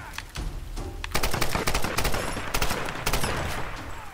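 Rapid gunfire from a heavy-recoil gun in the video game Tomb Raider 2013: dense, continuous bursts of shots, loud and close, firing almost nonstop across the whole stretch with a brief pause near the start.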